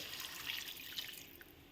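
Water poured from a container into a cooking pan of cauliflower curry (phool kopir dalna), a short, steady, faint splashing stream with no talk.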